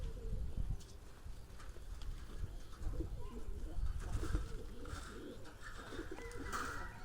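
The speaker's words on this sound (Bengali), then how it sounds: "তো গাইস চলেন আপনাদেরকে কবুতরগুলো দেখাবো।" Bombay pigeons on a farm coo steadily throughout, a low murmuring chorus from several birds with faint rustling in the background.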